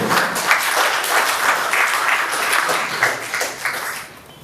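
A hall audience at a cultural ceremony applauds with audible individual claps in an uneven rhythm, moderately loud and close, thinning out and fading near the end.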